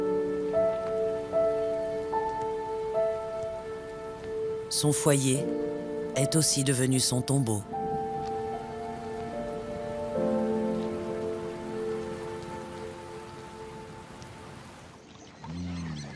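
Rain falling steadily over an African savanna where hyenas live, a continuous patter beneath music and French narration.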